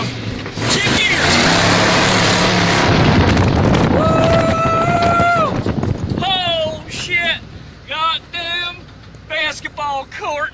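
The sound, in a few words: truck driving and shifting gears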